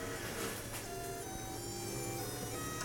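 A Solidoodle 3D printer works through a test print, giving a steady mechanical whir with shifting tonal stepper-motor whines and faint clicks, continuous and close with no talking.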